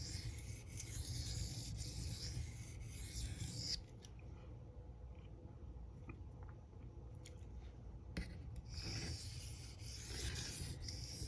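A Benchmade knife is sharpened on a diamond plate, soft rhythmic rasping strokes close by, pausing briefly in the middle before the scraping resumes.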